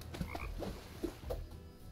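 Frogs croak in Bang-On Balls: Chronicles, with a few soft, spaced calls sitting quietly in a low, murky game ambience.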